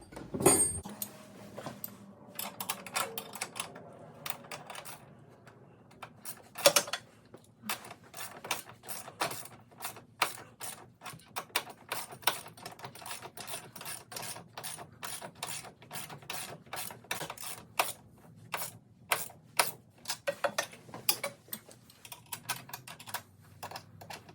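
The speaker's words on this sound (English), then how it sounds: "we're gonna tighten these back screws, both sides, now that everything's mounted up" Brush guard screws on a Polaris Hawkeye 300 are tightened, giving many quick metallic clicks and ratcheting ticks in steady bursts, close and fairly quiet, with brief pauses between runs.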